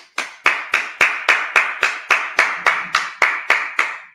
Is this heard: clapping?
yes